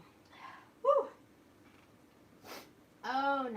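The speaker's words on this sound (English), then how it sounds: "Just a second, I have a sneeze." A single sharp sneeze bursts out after a soft intake of breath, followed by a short rustle and a brief voiced sound, all quiet and close.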